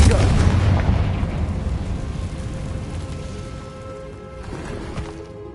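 A Confringo fire-blast spell goes off in Hogwarts Legacy, a loud booming burst at the start that rolls into a long, fading rumble with crackling debris.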